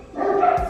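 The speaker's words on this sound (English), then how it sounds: "all the dogs start barking, everybody starts making noise" Dogs barking in a brief burst, a couple of yelping barks over a noisy background.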